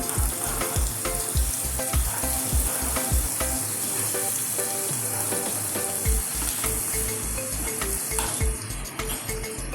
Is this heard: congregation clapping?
no